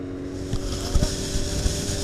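A Triumph 955i motorcycle with a petrol leak idles nearby, holding an even, humming engine tone with small throttle blips, alone and with no talk.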